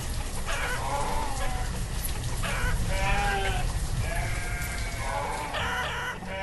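Sheep bleat repeatedly in a city-building game, the wavering calls rising over a dense, steady layer of farm noise with fowl-like sounds mixed in.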